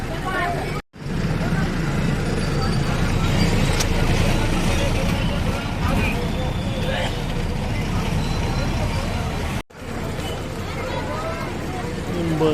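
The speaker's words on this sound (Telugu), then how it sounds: "బస్సు మహారాష్ట్ర బస్సు, జనం ఎలా ఎక్కుతున్నారు" Maharashtra state buses idle and move at an old village bus stand with passengers boarding, a loud engine rumble under chatter of crowd voices, with a narrator speaking close by.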